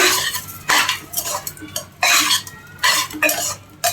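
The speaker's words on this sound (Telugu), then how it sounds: "ఇప్పుడు ఇవి వేసుకొని మొత్తం ఒకసారి కలిపేసుకోండి." A utensil stirs cucumber and mixed dal ingredients in a pot, giving repeated scraping and clinking strokes in bursts of roughly one per second, close and clear with no talk.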